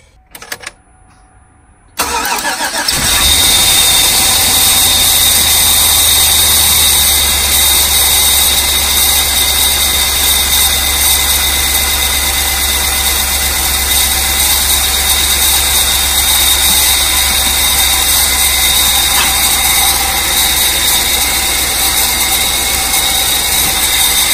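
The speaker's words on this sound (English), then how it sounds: "see if the tune of the engine changes" After a brief quiet moment with a few clicks, a Chevy Avalanche truck engine with a cylinder 3 misfire starts and settles into a loud, steady idle that rumbles on close by.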